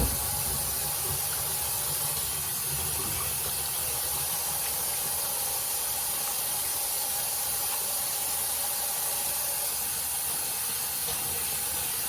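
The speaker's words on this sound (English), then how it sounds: "the first thing we're going to do is wash our hands. Use this antibacterial soap" Running water from a tap while hands are washed with antibacterial soap, a steady, loud hiss of water spray, continuous and close, with no speech.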